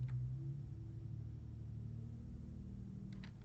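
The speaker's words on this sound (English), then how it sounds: "I hear a mail truck idling outside." Mail truck idling outside a house, a low, steady engine rumble heard faintly from a distance and unchanging throughout, with a couple of small clicks nearby near the end.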